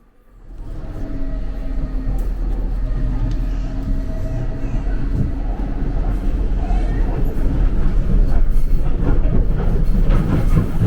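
A DLR train runs through a busy London station, its rumble rising quickly and holding steady with rhythmic clicks of wheels on track, close by and loud throughout.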